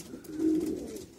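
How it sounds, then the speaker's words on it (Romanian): Pigeons in the breeding loft of a racing-pigeon compartment coo from their nest boxes, a single low, swelling coo close by with faint background room noise. "Deja porumbeii s-au aranjat foarte bine pe boxe și le dăm drumul"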